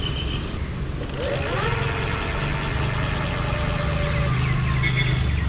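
An electric bike motor running in throttle mode gives a steady, fairly loud mechanical hum with a faint rising whine that settles and holds throughout.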